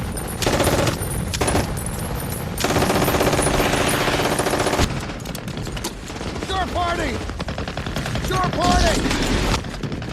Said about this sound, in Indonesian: Kejadian ini membuat pasukan Kapten Miller terisolasi di tengah hujanan peluru